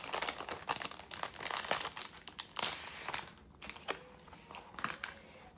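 Close crinkling and crumpling of gift wrap torn open around a Harry Potter card, with irregular rustling bursts and a few sharper rips, no talking.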